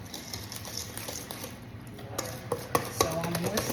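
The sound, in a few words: whisking chocolate pastry cream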